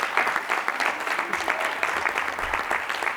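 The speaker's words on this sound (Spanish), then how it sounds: "Les damos un aplauso." An audience at a pre-university debate league final gives steady, full applause for the winning team. The many-handed clapping stays continuous and even throughout, with no talking over it.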